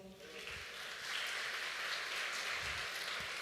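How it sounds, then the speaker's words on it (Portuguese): Congregation applauding in a church service, a faint, distant, steady wash of clapping that swells slightly and continues throughout. "Dê um aplauso ao Senhor"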